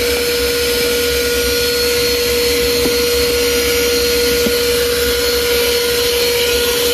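A portable car vacuum cleaner runs continuously at a steady, loud, even whine, with faint clicks of the nozzle moving over the car interior.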